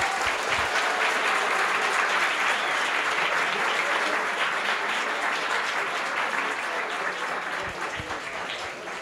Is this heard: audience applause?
yes